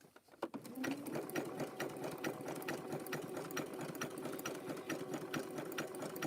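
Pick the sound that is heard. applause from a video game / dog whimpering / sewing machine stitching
sewing machine stitching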